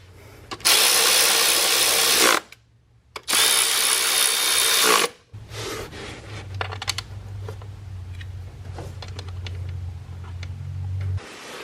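Power tool removing 8mm head bolts on a 6.7L Cummins engine intake, two loud close whirring bursts of a couple of seconds each, then a lower steady hum with clicks and clatter.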